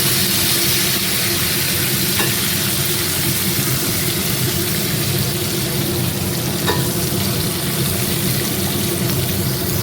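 Tomato and garam masala fry in melted ghee with a steady, dense sizzle and occasional stirring, continuous and close throughout.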